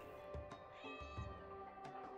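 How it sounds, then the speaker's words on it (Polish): A cat in the video game RimWorld meows several times in quick, faint calls spread across a quiet background. "Miau."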